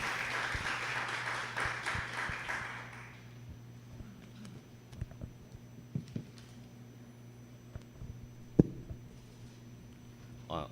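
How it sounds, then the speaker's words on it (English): Audience applause welcoming Singapore's ambassador on stage at an ASEAN 55th founding anniversary event, a dense burst of clapping for about three seconds that quickly fades, leaving a quiet hall with steady hum and scattered small knocks. "Let us give him a warm round of applause."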